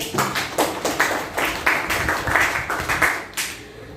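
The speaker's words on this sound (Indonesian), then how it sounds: "Oke, tepuk tangan buat Gusti." Students clap their hands in a classroom, a fairly loud, close patter of sharp, uneven claps from a small group that trails off near the end.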